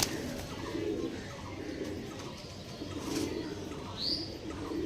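Pigeons of a bred show bloodline coo in soft repeated low phrases close by, with a brief higher chirp near the end over steady outdoor background.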